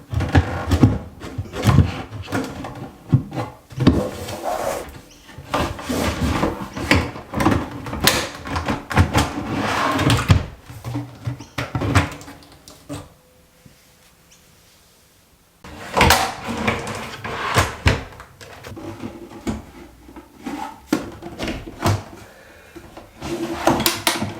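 Cabinet drawers on ball-bearing drawer slides in a mudroom renovation with shaker cabinetry are repeatedly pulled open and pushed shut, close and loud, with rolling rattles and thuds in bursts and a short quiet pause midway.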